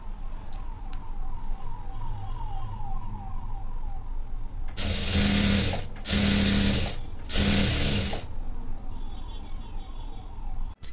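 Sewing machine stitching a blouse made from saree fabric: three loud bursts of rapid mechanical whirring separated by brief pauses, close by, with quieter room noise before and after.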